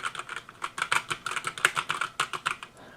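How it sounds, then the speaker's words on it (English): Rapid, uneven keystrokes on a RisoPhy wireless mechanical gaming keyboard with quiet, smooth non-tactile switches, each press a soft close clack with no talking. "while they don't have any tactile feedback, it's a pretty quiet keyboard"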